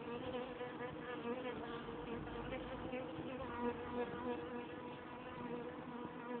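Honeybees buzz continuously around an open hive during an inspection, a dense, steady droning swarm close by with no pauses.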